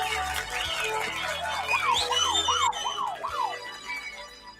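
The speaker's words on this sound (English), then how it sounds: "And you can hear the buzzers are at the ready." A series of rising and falling electronic whoops and warbling tones repeats rapidly, like pub quiz buzzers being tested one after another.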